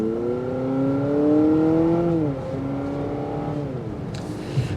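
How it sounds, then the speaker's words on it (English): A steady engine whine from a 2023 Honda CR-V Hybrid Sport Touring, with a rising, droning tone as it accelerates, dipping briefly around shifts before climbing again; no talking. "the engine whining noise, because it sounds like it's a little performance, but it's very drone-like"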